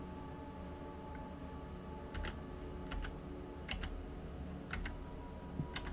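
Tab key presses on a computer keyboard, a handful of soft separate clicks spaced about a second apart over a quiet room hum.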